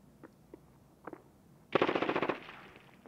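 Gunfire in Escape From Tarkov: a few scattered single shots, then a quick loud automatic burst of about a dozen rounds that fades into a short echo.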